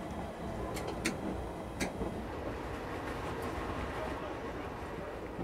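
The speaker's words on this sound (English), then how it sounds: "This train terminates here." A London Underground train at Baker Street gives a steady, close rumble with a few sharp metallic clicks and squeaks from the wheels and rails.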